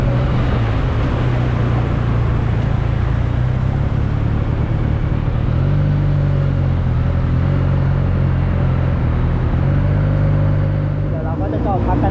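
A Benelli TnT 300 motorcycle idles in neutral with a steady, loud low engine rumble that holds even throughout, heard up close with wind-like noise on top.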